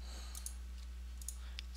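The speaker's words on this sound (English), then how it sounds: "Frustrated clicking commences." Faint, quick clicks repeat in uneven bursts, likely a mouse being clicked over and over while adjusting settings in 3D editing software, with steady low hum underneath and no talking.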